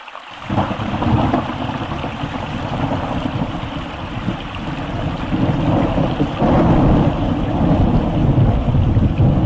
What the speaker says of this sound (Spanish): Truenos, agua, lluvia